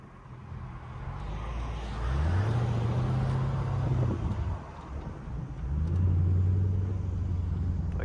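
A Chevrolet Camaro SS convertible drives along with a low engine rumble that swells twice as it accelerates, heard from inside the open-top car with road and wind noise around it.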